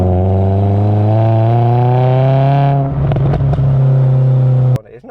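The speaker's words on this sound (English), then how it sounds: "trying to keep the revs high is not hard, but it just makes a bit of a racket, especially with the exhaust system it's got." Ford Fiesta ST150 engine held at high revs through a loud aftermarket exhaust, a steady droning rasp from close by with a brief clattering shift midway before it drops off at the end.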